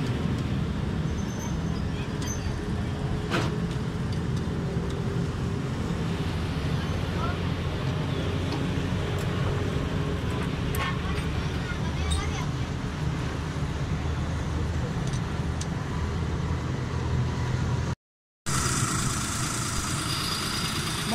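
A Suzuki Khyber car engine, previously troubled by tappet and fuel faults with black smoke, idles steadily and close by with a continuous, even rumble; the sound cuts out briefly near the end.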